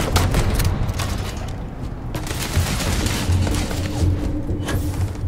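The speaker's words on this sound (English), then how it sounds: "Get some suppressive fire going." Suppressive gunfire in the video game Starfield, a sustained barrage of rapid overlapping shots and heavy thumps, loud and dense from start to finish without pause.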